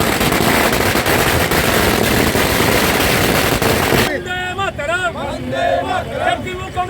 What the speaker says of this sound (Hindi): साथ ही पटाखे भी फोड़े।